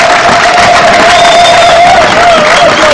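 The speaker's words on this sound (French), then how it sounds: "Félix Antoine Tshisekedi Tshilombo, que je demande d'applaudir très très fort." A loud political rally crowd in the Democratic Republic of Congo cheers and applauds for President Félix Tshisekedi, a dense continuous roar with a sustained whistle or shout riding on top throughout.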